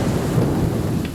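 Thunder rumbles over pouring rain in the horror game Hello Neighbor, a loud, dense roar that fills the whole moment with no voices.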